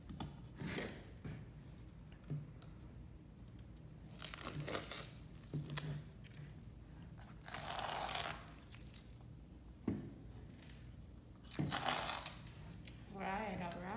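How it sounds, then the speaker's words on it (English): Masking tape is peeled off an acrylic painting on paper in several bursts of tearing and crinkling, close and moderately loud, separated by quieter stretches with faint handling noise and some background voice. "So we're gonna remove the tape."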